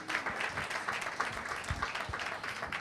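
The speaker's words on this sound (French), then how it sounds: "Vos applaudissements" An audience at a summer camp closing ceremony gives steady, dense applause, a continuous wash of clapping heard at moderate distance with no talking.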